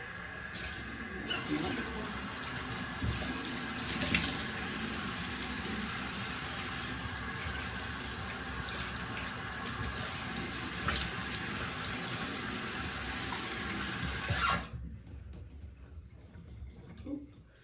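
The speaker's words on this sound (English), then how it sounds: "So I'm gonna rinse with lukewarm water." Running lukewarm tap water splashes steadily into a sink while a face is rinsed, for a long stretch, close and even, then cuts off abruptly near the end.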